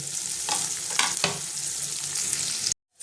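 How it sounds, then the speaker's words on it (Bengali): Onion and green chili sizzle in a pan, a bright crackling fry with a few stirring scrapes, cutting off abruptly near the end. "পেঁয়াজটা আমি হালকা লাল করে ভাজবো।"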